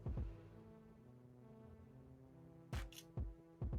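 Shutter clicks from a Ulefone Note 12P phone camera shooting a portrait-mode selfie in a low-light room: one click at the start, then a quick cluster of three to four sharp snaps near the end, fairly close and loud over a low hum.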